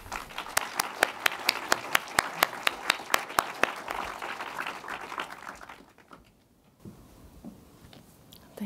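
Audience applause welcoming artist Hito Steyerl to the stage at a museology lecture, a dense wash of clapping with a few sharp, close claps standing out, fading away after about six seconds into a quiet room.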